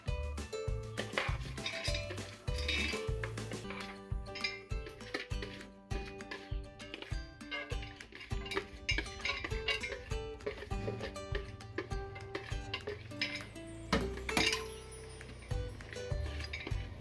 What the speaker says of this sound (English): So we'll just divide this between the two pans